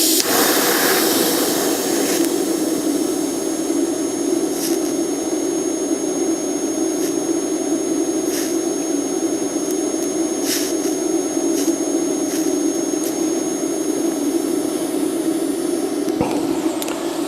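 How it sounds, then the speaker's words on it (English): Arc welding a pipe flange at 80 amps, a steady loud crackling hiss with a constant buzzing hum and occasional sharp pops that runs unbroken and stops near the end; no talking. "now we're ready to finish off the weld"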